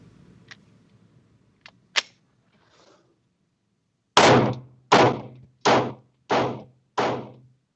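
Smith & Wesson pistol with a ported barrel fired in a darkened room during a live demonstration: five loud, sharp reports in an evenly spaced series, preceded by a few faint clicks.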